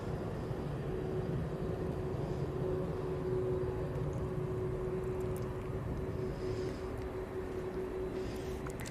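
A Ryanair airplane moving slowly as it taxis at East Midlands Airport gives off a steady, distant engine drone with a faint constant whine, continuous and unbroken with no talking.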